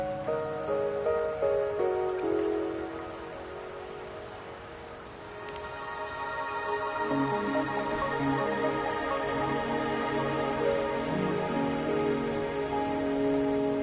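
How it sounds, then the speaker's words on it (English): Rain falling steadily in the video game Wuthering Waves, a constant hiss of drops pattering on surfaces beneath layered music throughout. "Don't worry, the rain won't last much longer."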